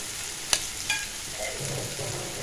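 Potato pieces and bitter gourd slices fry in a pan with a steady hiss, broken by a sharp clink of a utensil and a softer knock.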